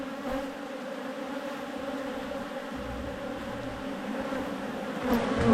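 Honey bees buzz steadily inside an opened hive during an inspection, a dense, continuous drone close by that swells slightly louder near the end, with no talking.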